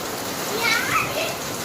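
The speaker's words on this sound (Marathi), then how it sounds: "खूप पहिला पाऊस आलेला आहे" Steady early-season rain in Mumbai in May patters on a surface, with faint children's voices in the background.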